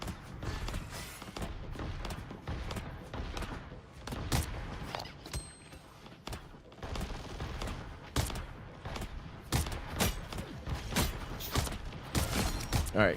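Rapid bursts of gunfire from the video game Marvel Rivals, dense and continuous, with sharp volleys and brief lulls amid game effects.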